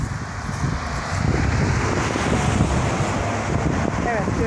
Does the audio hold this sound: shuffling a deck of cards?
no